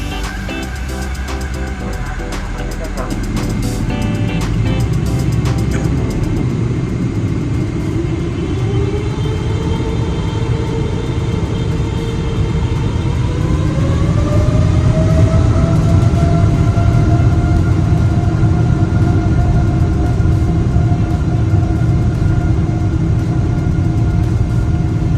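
A Philippine Airlines Boeing 777-300ER taxis and powers up for takeoff, a loud steady cabin rumble with a rising engine whine climbing in pitch as thrust builds, heard from inside the aircraft.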